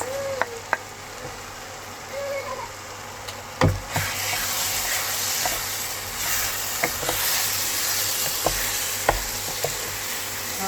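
Rice frying and sizzling in a pot: a quiet start with a couple of clicks, then a loud, steady close-up sizzle taking over and running to the end, dotted with small knocks and pops.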